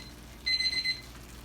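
A kitchen timer buzzer goes off once with a brief, bright electronic ring in a quiet kitchen, moderately loud over faint room noise.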